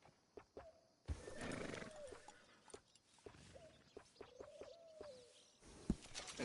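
In Red Dead Redemption 2, a horse whinnies in a few rising and falling neighs, mixed with hoof clops and short knocks, against a quiet background.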